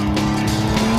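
A muscle car engine from the mobile shooter COD Mobile drones loud and steady, a thick low rumble holding for a moment with no gaps or voices.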